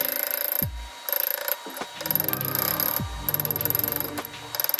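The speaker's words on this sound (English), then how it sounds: "continue to lightly tap on the sides of it to make your hammered look" Small ball hammer tapping a metal ring on a mandrel in quick bursts of sharp, ringing metallic clinks, close and fairly quiet, with brief pauses between flurries.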